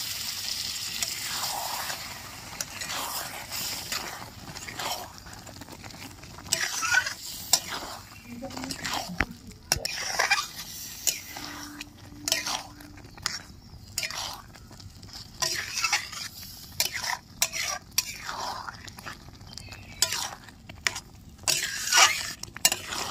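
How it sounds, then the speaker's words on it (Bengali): Boiled lentils stirred into a frying dhaba-style egg tarka: continuous sizzle under repeated scraping and knocking of a spoon against the pan, uneven bursts throughout, with a little background speech. "তড়কা মা সেদ্ধ করা ডাল দিয়ে দিচ্ছি।"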